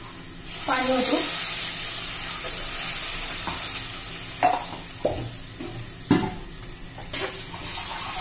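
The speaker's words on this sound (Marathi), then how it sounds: "मग त्यात पाणी ओतू." Water pours into a hot cooking pan holding a spiced garlic, chili, coriander and cumin mixture, giving a sustained sizzle and hiss with a few clinks and stirring knocks, while someone talks over it.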